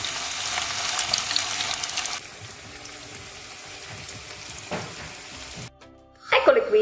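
Zucchini frying in hot oil in a pan give a steady, fairly loud sizzle with crackling that runs almost throughout, then cuts out abruptly near the end before a short clatter.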